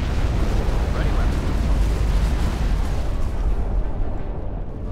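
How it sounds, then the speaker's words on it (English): A nuclear missile launches and detonates in the Generals: Shockwave strategy game, filling the clip with a loud, continuous roaring rumble, steady throughout and only slightly easing at the very end. "Nuclear missile ready launched."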